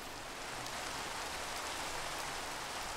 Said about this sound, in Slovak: No a ešte k tomu je aj večer a prší.